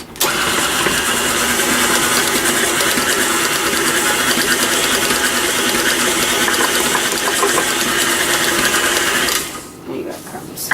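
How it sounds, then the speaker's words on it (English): An electric mixer runs steadily for about nine seconds while an apple crisp topping of flour and crumbs is mixed, a dense whirring mechanical drone that cuts off near the end with brief talk afterward. "Put the mixer back on."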